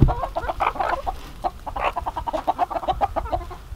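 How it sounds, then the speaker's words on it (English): Several chickens cluck rapidly and excitedly nearby, a busy overlapping chorus of short clucks. "Chickens are very excited"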